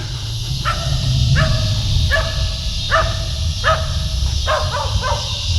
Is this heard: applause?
no